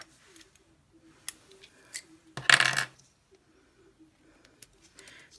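Scissors snipping a piece of polka dot paper during a card-stamping craft session, a few quiet, close clicks and short slicing sounds with one louder rustling cut in the middle.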